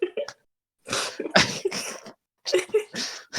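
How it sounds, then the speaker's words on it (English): A sharp, loud sneeze bursts out among short vocal sounds and breathy noises from people close by, with a brief silence just before it. "When a sneeze comes"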